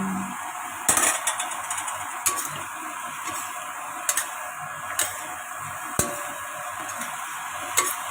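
Canton noodles are tossed and mixed in a pan with bean sprouts, a soft continuous sizzle punctuated by sharp clicks and taps of the utensil against the pan at irregular intervals, no voices.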